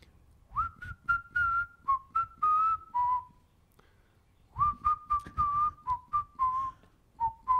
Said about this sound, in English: I still whistle the Luigi's Mansion theme